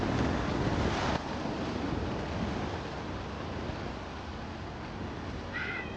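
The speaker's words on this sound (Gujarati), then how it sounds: "અત્યારે દરિયાના મોજા ખૂબ જ ઊંચા ઉછળી રહ્યા છે" High, rough sea waves surging at Shivrajpur Beach in Gujarat, heard as a steady, loud wash of surf and wind buffeting the microphone, with no voices.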